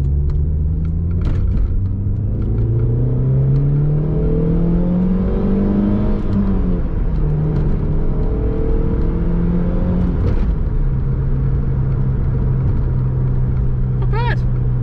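A Fiat Punto HGT engine with an old timing belt revs up as the car accelerates, pitch climbing and then dropping through gear changes under a constant loud road rumble.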